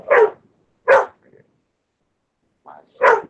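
Dogs bark in a home setting, three loud close barks spaced irregularly with a short pause between the first two and a longer gap before the last, plus a faint yip, with no talk.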